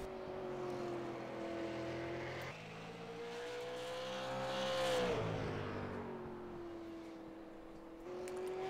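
Race car number 13 from DST Racing lapping an oval track, its engine a sustained droning tone that rises and falls in pitch as it works through the turns, swelling louder around the middle before easing off.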